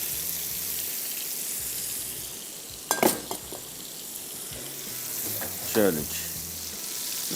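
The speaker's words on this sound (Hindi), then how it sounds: "इसको फ्राई करते जाएंगे।" Steady hiss of chicken pakoras frying in hot oil, with a couple of louder bursts of sizzling and clatter as pieces are stirred; a brief spoken word.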